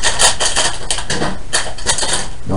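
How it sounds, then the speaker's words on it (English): A plastic bag of Mega Bloks Despicable Me Minion toy parts torn and crinkled open, bursts of sharp rustling and crackling in quick irregular clusters, close and fairly loud, with no talking. "Opening the bag."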